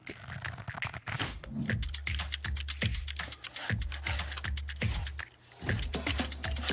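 Fast, steady typing on a HyperX computer keyboard, with dense key clatter close up and a low thump beneath, heard during a watch party for a PRX vs FPX esports match.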